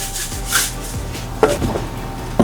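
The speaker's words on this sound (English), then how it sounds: "Now I'm going to put the salt on the meat" Salt being rubbed by hand over a large leg of lamb, heard as soft, close scraping and rubbing with a few sharper rasps and taps against the surface, with no talking.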